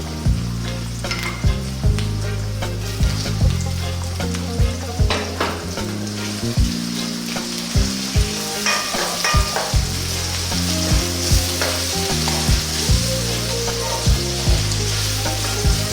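Chopped garlic, ginger and roughly cut fresh tomatoes sizzle loudly in a pan over above-medium heat, with rhythmic stirring scrapes repeating every second or so. Background music plays underneath, and no one speaks.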